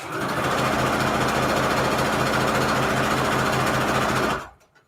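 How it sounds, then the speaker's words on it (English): A sewing machine runs a very short straight stitch through quilt fabric, a loud steady rapid mechanical chatter for about four seconds that stops abruptly near the end. "my machine is set to a straight stitch at the default setting, so it's set to a very short straight stitch."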